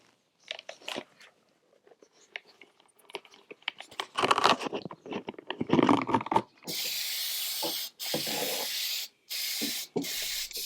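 Lacquer toner sprayed onto the inside of a piece of furniture being restored, in a cold workshop: three long, loud, steady hissing bursts with short gaps between them, following a stretch of scraping and handling noises.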